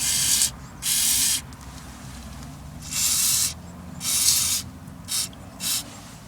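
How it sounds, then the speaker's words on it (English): WD-40 sprayed onto the suspension bearing faces of a Jaguar X-Type, in six sharp hissing bursts of varying length, some long and some quick, with short quiet gaps between them, close up and loud. "I'm spraying WD-40 onto all of the bearing faces."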